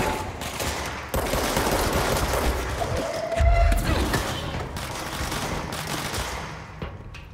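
Gunfire in Control Meeting Marshal sounds as bursts of rapid shots with a heavy thump partway through, loud and continuous under occasional game noise.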